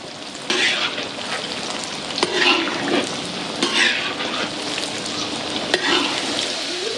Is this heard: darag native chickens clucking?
no